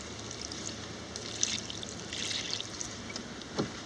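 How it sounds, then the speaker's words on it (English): Water poured onto dry soil, a soft continuous trickling pour running steadily throughout, close and moderately quiet, with a slightly brighter splash near the end. "The simple solution is just to pour some more water on."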